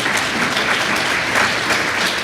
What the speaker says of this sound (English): a round of applause for Jerel, because that was awesome.